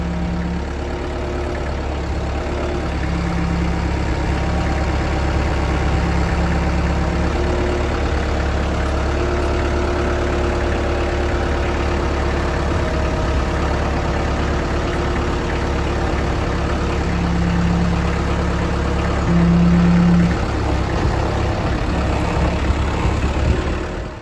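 A tractor's diesel engine idles steadily on a bow-axle rig, its low, even rumble running alone and unbroken for the whole stretch at close range.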